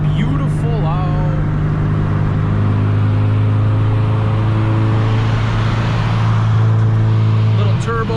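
Honda Civic Si engine pulling through the gears on an open road, a loud steady drone that rises in pitch as it accelerates, with a voice briefly over it near the start.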